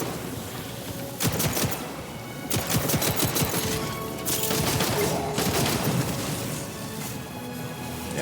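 Video game weapon firing poison rounds in bursts, sharp shots rattling in several volleys over a steady background of game noise, moderately loud with no voices.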